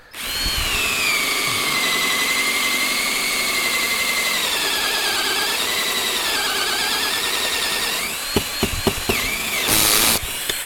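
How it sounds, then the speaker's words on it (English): A loud, steady electric drill whines continuously for several seconds while boring 35mm hinge holes, then stops with a few sharp knocks and a brief high burst at the end. "we just drilled the holes for a 35mm hinge with the 2 adjacent holes"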